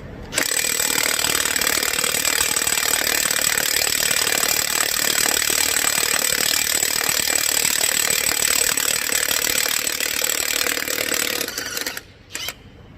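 Matco power tool, likely an impact wrench, running in reverse on a lug nut with a socket; a steady, loud, continuous mechanical whir and rattle that holds for about eleven seconds before cutting off abruptly, with no talking.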